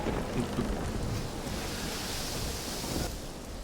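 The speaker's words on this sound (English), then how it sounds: "And over all that, the sound of the storm. Wind roaring, whipping the spray across" Storm ambience of roaring wind, heavy rain and a deep thunder-like rumble, a dense continuous wash of noise at steady loudness throughout with no voices.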